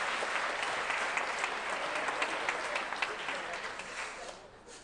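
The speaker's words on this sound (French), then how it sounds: "qui méritent des applaudissements nourris enthousiastes du public." A concert-hall audience at a charity gala gives the technical crew sustained applause, a dense wash of clapping heard from some distance, fairly quiet throughout.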